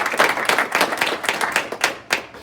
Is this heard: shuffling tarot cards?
no